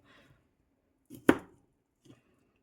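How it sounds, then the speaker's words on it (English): A knife chops broccoli on a cutting board for a canned corned beef dish, giving one sharp, close thunk with a softer knock before it and a faint tap after, in an otherwise quiet room. "Cut our broccoli in as well."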